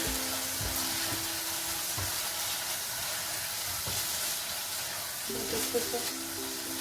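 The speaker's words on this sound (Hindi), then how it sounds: "धनिया पुदीना डालेंगे। मिक्स करेंगे, अच्छा से मिक्स करेंगे।" Chicken mince with coriander and mint sizzles steadily in a pan while a spoon stirs it, giving a constant close frying hiss with scattered scraping knocks.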